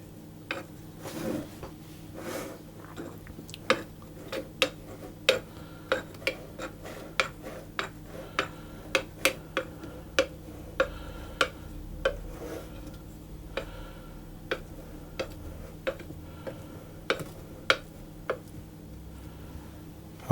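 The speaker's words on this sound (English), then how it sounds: "with the tines of the fork I'm going to just press down around the edge as well" Fork tines tapping and pressing around the edge of chocolate shortbread dough in a tin, a steady run of small, sharp metallic clicks and taps close by, with no talking.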